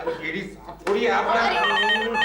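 A telephone rings loudly with a bright trilling bell, starting abruptly and continuing over a voice that talks underneath.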